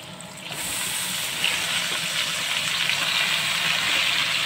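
Cabbage sizzling in a hot pan with red meat, a loud steady frying hiss with bubbling, close and continuous, no talking.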